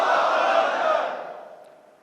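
A large crowd at a Milad un Nabi gathering roars a loud, unified chant of Allahu Akbar in answer to a Nara-e-Takbeer call, the shout holding for a moment and then fading away.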